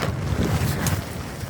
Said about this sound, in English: Oh, it's quite windy out there, and all my tarp's blowing away like a hot air balloon.